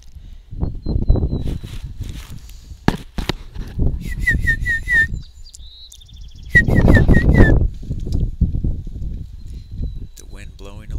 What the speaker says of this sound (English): Birds tweeting louder.